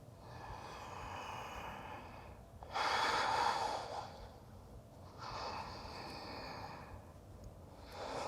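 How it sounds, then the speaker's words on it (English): Slow audible breathing during a yoga flow, a long loud exhale followed by another softer breath cycle, close and unaccompanied by talk. "Listen to the sound of your breath."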